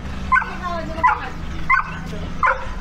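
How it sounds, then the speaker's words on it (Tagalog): Large dogs bark along a back road near Bulabog Beach on Boracay, four loud, evenly spaced woofs about two-thirds of a second apart, close by, over a low background hum. "Ang daming aso dito na ganito"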